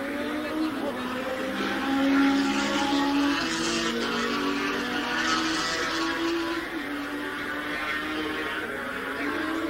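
1980s AMA Superbike motorcycles race at up to 150 mph, their engines a sustained high-pitched whine that swells and falls in waves as bikes pass, heard from a bike-mounted onboard vantage.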